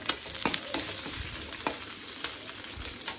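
Curry leaves frying in hot oil in a pan for kara chutney, a steady close sizzle with crackling pops and faint stirring, no talking.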